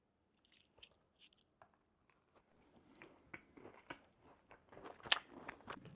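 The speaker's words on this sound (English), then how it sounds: "You can probably hear it, but the cookie is super chewy." A homemade chocolate chip cookie is bitten and chewed up close. Faint, soft crunches and moist chewing sounds start sparse, then grow busier and louder toward the end.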